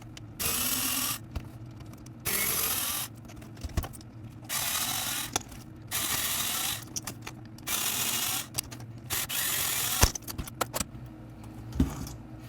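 Phillips head screws are undone to pull the wheels off a Kyosho Blizzard RC model, heard as repeated bursts of close screwdriver ratcheting and plastic clicks separated by short pauses.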